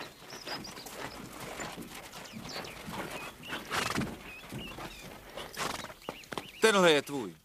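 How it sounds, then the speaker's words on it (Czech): Horses clip-clop and shuffle near a stable while one neighs loudly near the end. Several voices talk over the hooves throughout. "Osedlej dva koně, pro slečnu Velsovu a pro mě."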